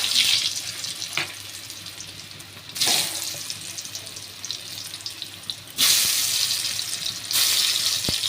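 Ripe mango pieces go into a pan of rohu fish with black cumin tempering, giving bursts of loud hissing sizzle that rise suddenly, settle to a steady crackle, then flare again.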